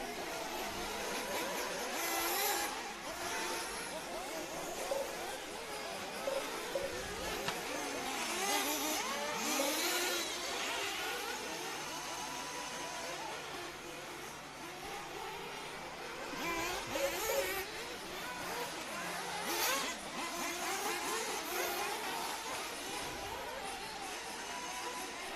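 Nitro RC buggies in a Clubman class race buzz and whine continuously at mid distance, with engines rising and falling as cars accelerate and brake around the track, and a steady crowd-like background beneath.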